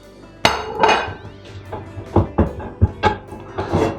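Clanking and knocking of a metal pot of set labneh cheese being shaken after coming out of the oven, several irregular hard clunks and rattles close by, no talking.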